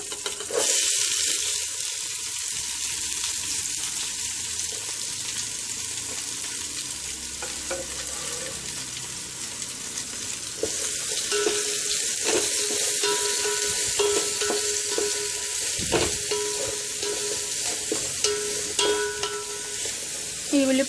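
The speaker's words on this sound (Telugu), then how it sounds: "ఉల్లిపాయలు గోల్డెన్ కలర్ వచ్చేదాకా మనం ఫ్రై చేసుకోవాలండి" Sliced onions and slit green chillies fry steadily in a pan for mutton biryani, giving a continuous close sizzle with occasional stirring scrapes and no talk.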